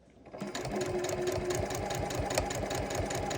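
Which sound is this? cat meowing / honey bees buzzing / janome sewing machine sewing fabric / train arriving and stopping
janome sewing machine sewing fabric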